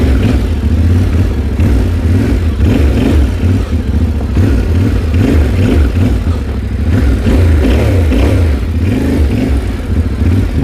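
Yamaha T7 adventure motorcycle engine running loud and close during slow clutch practice, a continuous low rumble with uneven throttle swells and revs.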